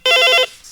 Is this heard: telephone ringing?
yes